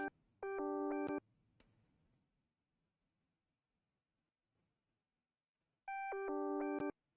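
Two bursts of a loud, stacked electronic alert tone, each around half a second, separated by a long quiet gap, resembling the Apple Find My phone-locating chime.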